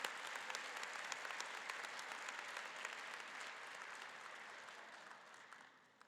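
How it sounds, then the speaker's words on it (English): A graduation crowd at a community college claps steadily, a broad even roar of hands that continues throughout before tapering off in the final second. "Let's give Noel another round of applause for those wonderful remarks tonight."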